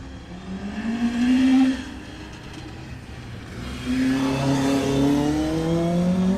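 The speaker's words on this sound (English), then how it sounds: "leading the way in Class A were Nicky Cowperthwaite and James Wood in their Vauxhall Corsa." A Vauxhall Corsa rally car races at Oulton Park, its engine revving hard and rising in pitch as it accelerates, easing off briefly mid-run, then climbing again loud and close.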